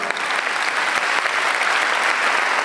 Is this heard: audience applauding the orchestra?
yes